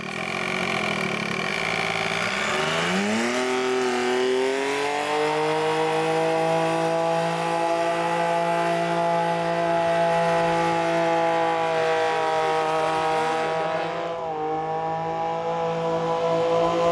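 A kart fitted with an experimental Wankel-type rotary engine revs up, then holds a loud, sustained, buzzing drone that rises in pitch before settling steady, with no talking.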